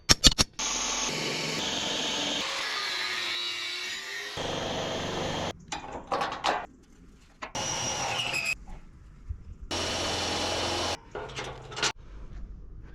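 Power tools driving bolts through a plate on the back of a crusty old cabover truck, loud bursts of whirring and rattling broken by short pauses and clanks, with no talking.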